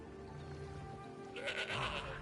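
A goat bleats in the Elder Scrolls Online video game, one short wavering bleat near the end of a quiet stretch, heard alone.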